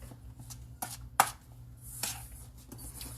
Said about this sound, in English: here we're going to stir,